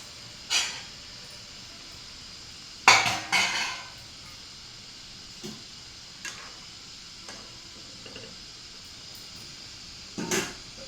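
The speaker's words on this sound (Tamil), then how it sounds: "இப்போ மூடி போட்டு மூடுறாங்க காய் வேகட்டும்" A metal lid goes onto a cooking pot of vegetables in a home kitchen. Brief clinks and clatter ring out, one sharper knock near the start of the cluster, with fainter ticks spread over a quiet background hiss.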